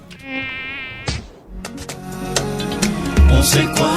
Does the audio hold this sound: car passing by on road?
no